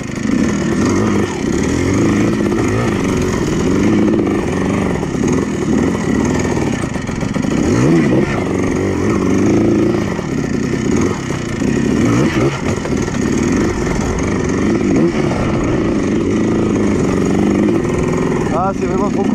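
A modified Yamaha Blaster quad engine runs loud and steady while riding off-road over obstacles, its revs rising and falling under ongoing talk.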